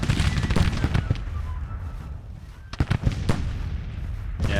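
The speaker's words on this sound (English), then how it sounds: "I want to move them so these artillery can open up." Cannon fire from artillery batteries in the Civil War strategy game Grand Tactician, a ragged run of booming reports and sharp cracks, some overlapping into a rumble, loud and close with battle noise between shots.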